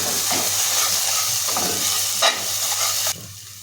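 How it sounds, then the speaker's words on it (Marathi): Ground spices such as coriander and cumin powder fry in a pan for dhaba-style dum aloo, a loud close sizzle with light stirring that drops off abruptly near the end. "मसाले आपले छान फ्राय झालेले आहेत"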